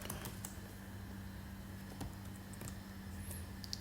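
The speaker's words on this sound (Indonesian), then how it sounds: "Saya akan mencoba menuliskan teks hello world." Typing on a computer keyboard while writing hello world in HTML: soft, rapid key taps in an uneven rhythm over a low steady hum, close and quiet, with no talking.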